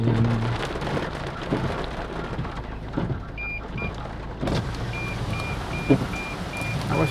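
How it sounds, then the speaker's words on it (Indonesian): Steady heavy rain pours down with gusts of wind and a low rumble of thunder during a sudden rainstorm, heard from a car driving downtown, no voices, a dense continuous wash throughout. "Tiba-tiba hujan angin."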